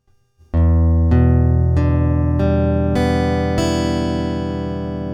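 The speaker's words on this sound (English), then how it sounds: "I want you to try strumming the strings through slowly so you can hear" Guitar chord on a beginner's acoustic guitar strummed slowly one string at a time, six distinct plucked notes rising in pitch at even intervals, each ringing on and sustaining together, played alone.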